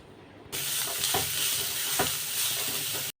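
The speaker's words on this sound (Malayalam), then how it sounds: "അതിനകത്തോട്ട് നേരത്തെ അരിഞ്ഞു വെച്ചിരിക്കുന്ന സവാളയും പച്ചമുളകും പിന്നെ കുറച്ച് ഉപ്പും കൂടെ ചേർത്ത് നല്ലോണം ഒന്ന് വഴറ്റിയെടുക്കുക" Crushed shallots, sliced onion and green chilies with salt sizzle and hiss loudly in a hot pan, with a few stirring scrapes, then cut off abruptly.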